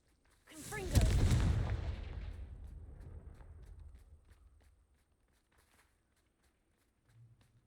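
The Confringo blasting spell from Hogwarts Legacy goes off as one loud booming burst with a crackling fiery tail that rumbles and fades over several seconds, followed by faint ambient game sounds.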